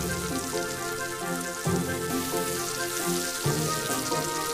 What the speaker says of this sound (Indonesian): Lakukan hal yang sama sampai kentang habis digoreng.